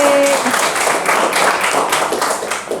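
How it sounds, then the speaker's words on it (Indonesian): A classroom of students clapping for a student group, a steady close burst of hand claps lasting nearly three seconds, with a brief voice at the very start. "Baik, tepuk tangan untuk kelompok Putri"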